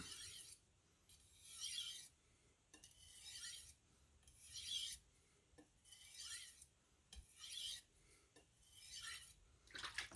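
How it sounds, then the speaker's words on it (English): A knife edge is deburred on a fairly hard sharpening stone with repeated rhythmic strokes, each a close, gritty rasp separated by short quiet pauses. About six passes are heard, with no talking. "That stone is a little bit hard, so it's quite interesting for sharpening, I think."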